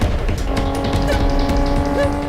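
A car drives fast in a chase, its loud continuous engine roar holding steady and close, with brief squeal-like tones rising over the rumble.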